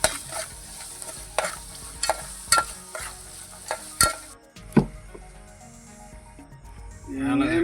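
Fish curry being stirred in a pot after masala and water are added, with repeated scraping and clattering strokes over a faint simmer, ending in a louder, rising bubbling wash.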